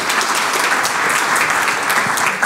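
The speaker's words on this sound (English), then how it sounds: "Can I just get a round of applause for all the previous speakers?" Sustained applause from a conference audience honoring earlier speakers, a dense, steady wash of many hands clapping at even loudness throughout.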